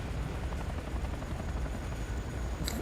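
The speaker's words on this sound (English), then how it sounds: "Warning, enemy aircraft detected." An enemy aircraft in an EA video game gives off a steady, broadband roar like a helicopter or jet. It holds at moderate level, with no talk over it.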